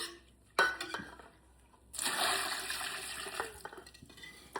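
Slurry poured from a container into a bowl of raw cat food mix, a brief clink of the container followed by a couple of seconds of wet, splashing pouring at close range.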